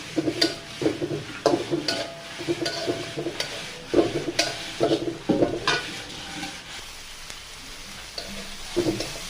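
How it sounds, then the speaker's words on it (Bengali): Onions fry in a pan, a continuous sizzle broken by repeated stirring scrapes and clanks of a spatula against metal, fairly close and loud with no talking. "পেঁয়াজ ভেজে নিচ্ছি"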